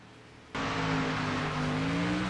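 Race cars at the Hollywood Casino 400 in a sim racing game, with a sudden onset of loud, steady engine drone and sustained tonal whine that stays close for the rest of the moment.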